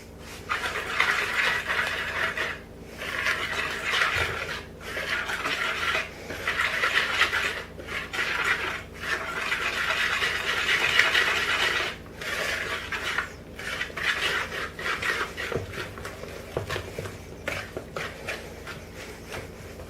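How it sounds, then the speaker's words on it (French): Apple cake batter being mixed by hand in a bowl, a steady scraping and rubbing churn that comes in bursts of several seconds separated by brief pauses, fairly close with no voices. "Et vous mélangez."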